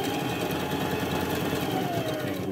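Sewing machine stitching double-sided satin fabric for a cloth cap, a steady continuous mechanical whir with rapid needle rhythm held at constant loudness throughout, close by and with no talking.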